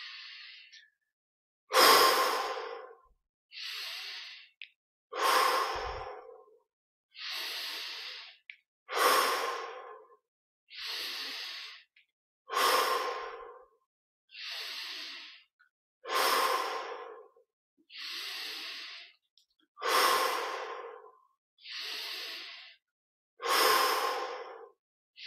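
Slow, deep breaths during guided meditation, about a dozen evenly spaced inhales and exhales, close and clear against near silence.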